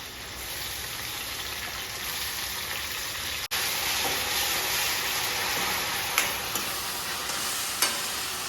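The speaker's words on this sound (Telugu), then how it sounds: "పచ్చిమిర్చి కొద్దిగా కరివేపాకు పచ్చిమిర్చి వేగిన తర్వాత ఉల్లిపాయ పేస్ట్ చేసుకోవాలి" Green chilies and curry leaves frying in hot oil: a loud, dense, continuous sizzle close by, broken by one brief dropout and a few faint clicks of a stirring spoon, with no voices.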